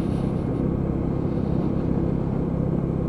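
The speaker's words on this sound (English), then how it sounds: "I'm just going down through the gearbox, 3, 2, down to 1" A Lexmoto ZSB motorcycle engine drones steadily and close while downshifting through the gears, a dense low rumble mixed with wind noise and no clear rev spikes.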